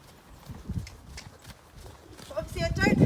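A horse ridden side saddle during jumping practice clip-clops in a soft, steady hoof rhythm at moderate distance, with a rider talking over it and louder snorting or movement near the end.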